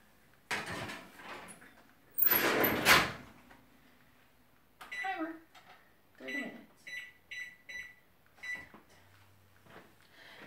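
A pizza ring goes into a home oven, with a light knock, then a loud clattering slide of the pan and oven door, followed by several short, close clinks and thuds.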